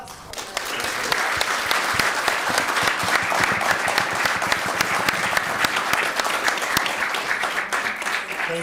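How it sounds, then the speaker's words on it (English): Audience applause at a marketing and advertising careers summit panel's close, steady dense clapping from a sizeable crowd throughout, with a faint voice or two underneath. "so round of applause for"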